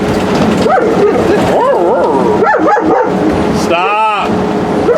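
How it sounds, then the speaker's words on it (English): A dog barks a few times in close range while someone talks over it, the barks coming in short bursts during the speech. "The dog starts barking."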